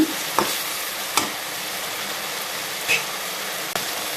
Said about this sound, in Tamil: இது கூட நான் ஆட் பண்ணுறேங்க நல்லா அதையும் வதக்கிடுங்க